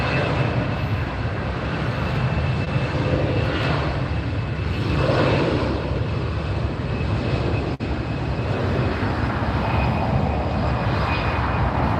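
A Lufthansa jet airliner roars past at LAX, a loud, steady, broad rumble with a faint high whine that fills the whole stretch without easing.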